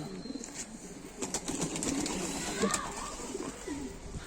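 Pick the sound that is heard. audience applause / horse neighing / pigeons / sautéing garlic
pigeons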